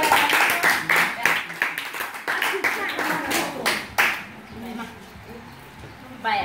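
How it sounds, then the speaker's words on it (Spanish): Guests at a birthday party clap in a burst of scattered hand claps during a party game, loud and close, fading out after a few seconds, with voices chattering underneath. "fuerte aplauso para Roberto"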